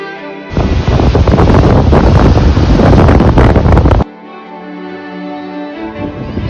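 Strong wind buffets the microphone on Payyambalam beach in Kannur, a loud, steady roar that drops away sharply after a few seconds to a quieter, gusty background.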